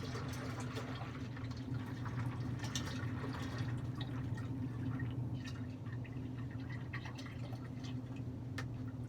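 Brewing wort pouring from a red pot into a Mr. Beer plastic keg, a steady splashing, trickling stream with scattered drips, continuous under a low background hum.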